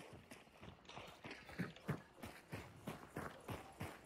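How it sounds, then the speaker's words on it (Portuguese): Horse hooves clip-clopping in a steady, fairly quiet rhythm in the video game Hunt: Showdown, evenly spaced thuds at a walking pace. "Cavalo."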